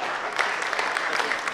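Short burst of audience applause at a lawyers' club discussion in Indonesia, brisk clapping from a room full of people lasting just over a second.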